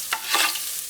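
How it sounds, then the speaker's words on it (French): Shallots hit melted butter in a saucepan and sizzle at close range, a bright, crackling hiss with a couple of quick stirring scrapes, no voices. "Lorsque le beurre a fondu, ajoutez les échalotes"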